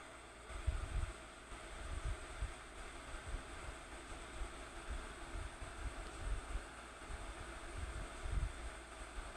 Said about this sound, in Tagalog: lakas ng hangin dito sa taas